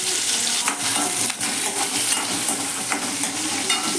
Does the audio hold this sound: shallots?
yes